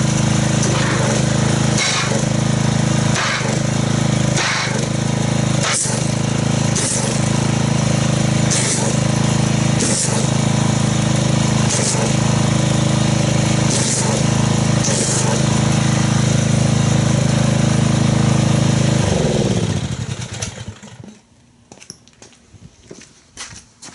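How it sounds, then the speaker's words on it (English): A pressure washer runs steadily, loud close engine drone with rhythmic pulsing bursts as it sprays and agitates foam, then the motor winds down near the end leaving faint low noise. "let's get our pressure washer and see how much foamage we can get from agitating this with pressure washer"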